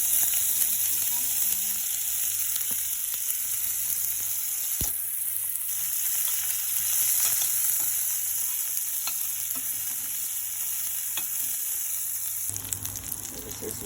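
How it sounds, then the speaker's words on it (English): Chopped nuggets and sausage fry in a pot with a steady, loud hiss and sizzle that carries on the whole time, broken now and then by soft clinks of stirring. "I'm just gonna put it in the pot and fry it up."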